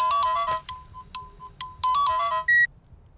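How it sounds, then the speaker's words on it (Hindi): A mobile phone ringtone plays as a bright melodic electronic tune in repeated bursts with short gaps, close and clear, ending on a single sustained tone. "माया का फोन।"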